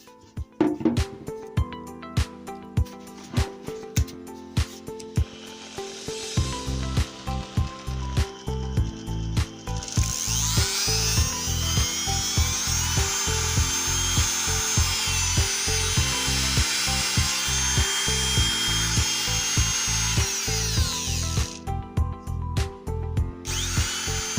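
A repaired Dnipro-M electric wood router starts after a few short bursts and then runs steadily with a loud, continuous whine, with no talk over it.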